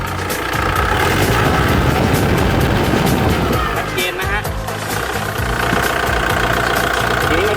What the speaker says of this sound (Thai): เครื่องยนต์ครับ